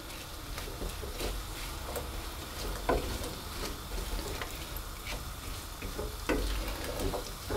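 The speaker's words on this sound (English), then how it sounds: "So that's our butter melted and beginning to brown, and I'm going to put the apples in" Apples sizzling as they fry in melted, browning butter in a pan, with soft crackling and scattered stirring clicks and clatters throughout, steady and close.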